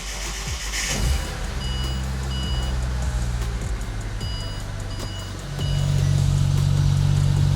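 A car engine idling steadily while the wheels spin, a low even hum that steps up louder and higher partway through, with faint intermittent electronic beeps over it.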